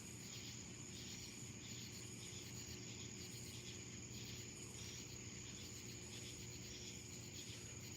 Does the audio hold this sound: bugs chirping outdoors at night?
yes